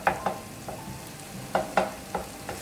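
Garlic frying in oil in a pot for a Saint Lucian pumpkin lentil stew, a low sizzle under several sharp scraping and stirring knocks spaced irregularly, with no voices.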